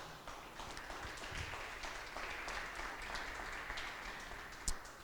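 Congregation applauding from their seats during a church service, a soft, steady wash of clapping that sounds somewhat distant and fairly quiet, with a louder single clap near the end.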